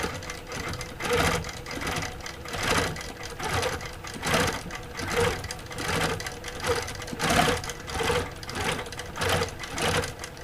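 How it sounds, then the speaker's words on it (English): A sewing machine microquilting at about 15 stitches per inch sends out a rapid rhythmic chatter. It runs close and steady in repeated bursts with brief pauses between them, with no voices. "you can hear, and the machine kind of pauses when I pause."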